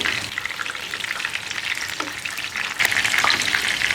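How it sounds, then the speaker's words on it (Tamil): Chicken leg pieces frying in a pan and being turned, a dense, loud crackling sizzle with a few scraping clatters as pieces flip, growing louder toward the end; no talking. "சிக்கன் வந்து இப்போ எல்லா பக்கமுமே நான் திருப்பி கொடுத்து நல்லா வேக வச்சுட்டேன்."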